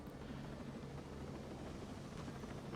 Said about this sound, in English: maybe it's some fucking dodgy fucking helicopter flying